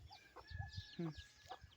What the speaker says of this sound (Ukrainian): Оці голошиї курі люблю.